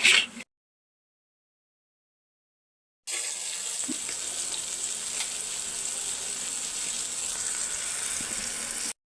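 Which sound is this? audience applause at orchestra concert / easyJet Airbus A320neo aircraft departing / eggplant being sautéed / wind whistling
eggplant being sautéed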